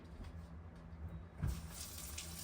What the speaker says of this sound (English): Pre-run your water just a sec.